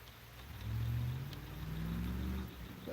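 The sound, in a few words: truck driving away from boat ramp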